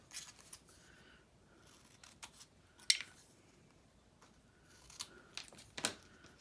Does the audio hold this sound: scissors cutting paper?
yes